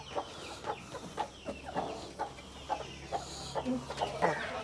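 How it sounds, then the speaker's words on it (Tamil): Chickens and roosters cluck in repeated short bursts on a chicken and goat farm, several birds close by with a steady low hum beneath them. "எவ்வளோ பெரிய சேவல் எல்லாம்."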